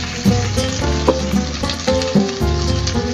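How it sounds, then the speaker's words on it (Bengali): Quail meat frying in a pan with spices gives a loud, steady sizzle with bursts of crackle and stirring scrapes throughout. "সব দিয়ে একটু ভেজে নিচ্ছি"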